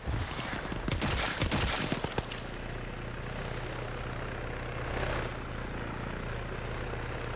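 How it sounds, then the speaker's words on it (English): Helicopter flying over a battle in a video game where alien bugs shoot at it, with a dense burst of rapid gunfire early on, then a steady rotor drone with occasional distant pops. "I love that the spitter bugs are actually shooting at the helicopter"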